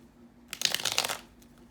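A deck of playing cards is riffled once in a quick, crisp burst of rapid fluttering snaps lasting under a second, close and fairly loud against a quiet room.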